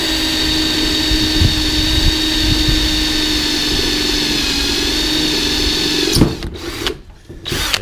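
A power drill bores steadily into a torque converter, its high, even whine running loud and continuous before cutting off into brief stuttering bursts near the end.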